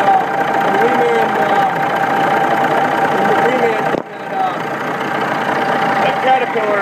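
Caterpillar Reman engine running in a Western Star truck, a steady loud idling rumble and drone throughout with a brief dip midway.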